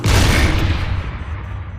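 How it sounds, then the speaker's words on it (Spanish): A Tiger tank's cannon shot from World War II, rendered as a single heavy boom with a deep low rumble that rolls on and slowly decays, loud and close, with no talking. "No te haces una idea de la fuerza que tenía un cañonazo."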